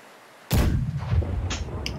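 A ship's cannon fires in a Blackwake naval battle, one loud close boom that rolls into a long rumbling tail, with faint clatter of deck sounds following.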